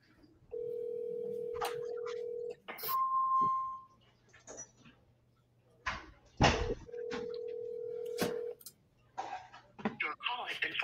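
A telephone line on a forwarded call gives long, steady ringback tones in two bursts, separated by clicks, a short electronic beep and sharp handling knocks, with brief chatter toward the end.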